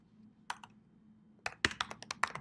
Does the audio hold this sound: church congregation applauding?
no